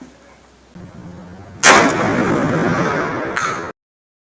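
A Remington Model 11 shotgun fires in slow motion: a sudden loud broadband blast that rings on and sustains for about two seconds, with a brief second burst near the end before the sound cuts off.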